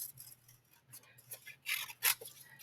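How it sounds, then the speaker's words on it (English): Scissors snipping along drawn lines on folded paper for a puppet, a run of quiet close clicks and cuts that builds to two louder, longer crisp snips near the end, with no talk. "if I cut on the lines, sorry, I should show you, cut on the lines"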